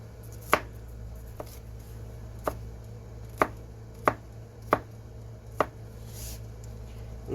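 A knife chopping food into little pieces for chili on a cutting board, about eight sharp distinct cuts spaced irregularly, close and clear over a quiet hum.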